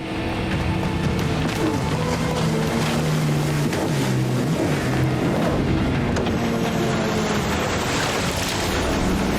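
Steady drone of a motorboat engine, loud and close, with water rushing and splashing around the hull throughout.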